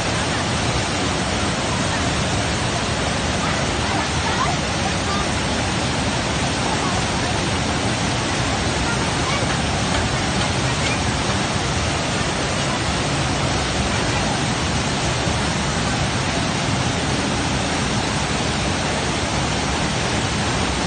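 Continuous loud roar of a river in strong, swollen current after days of heavy rain near a village, a dense unbroken wash of water with no breaks.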